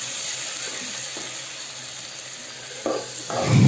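Chopped tomatoes sautéing in a pan for bottle gourd kootu give a steady close sizzle, with a few stirring scrapes near the end.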